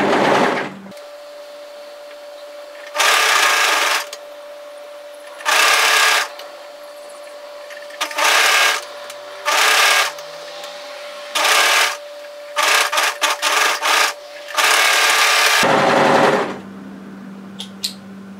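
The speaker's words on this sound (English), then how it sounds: "So we just need to gently sew that and ease it in to fit" A domestic sewing machine stitches a hoodie seam in short bursts of rapid whirring, stopping and starting repeatedly, with one longer run near the end; close and clear, no talk.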